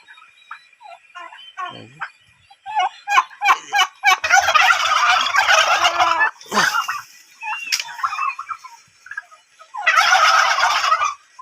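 A Royal Palm turkey gobbles repeatedly in loud, rattling bursts, with quieter clucks and calls between them, close by and without speech.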